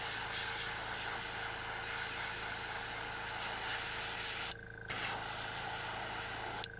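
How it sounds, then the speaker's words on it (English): An aerosol or airbrush sprays a light pearlized gold coat onto a crankbait fishing lure, giving a steady close hiss that briefly cuts out near the end before resuming. "So we're going to very lightly spray a gold coat."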